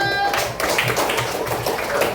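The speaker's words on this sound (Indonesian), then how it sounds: "Tepuk tangan dulu." Pupils in a classroom give a brief round of applause, quick scattered claps mixed with chatter and voices nearby.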